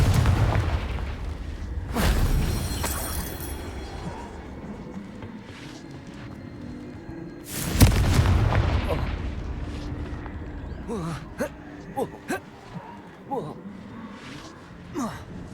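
A Confringo blasting spell in Hogwarts Legacy goes off as two deep, booming explosions several seconds apart, with low rumbling in between and small clicks and effects afterward.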